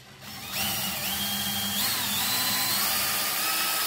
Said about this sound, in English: So we'll just drill this hole.